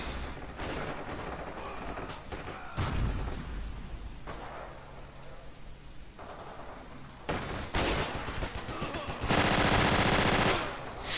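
Gunfire in the multiplayer shooter Forgotten Hope 2: dense, chaotic bursts of rifle and machine-gun fire, some near and loud, others distant, rolling continuously with a heavy burst building at the end.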